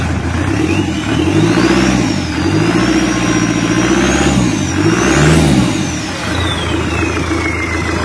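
Kia Carnival diesel engine, warmed up after a rebuild, revved repeatedly while running loud and near. Several rises and falls of rpm sit over a steady idle, with a high whine that sweeps up and down.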